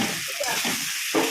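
Hot tempering spices hit a pan of cooked leafy greens curry, giving a short close sizzle with soft crackle and a brief stirring scrape, no voices.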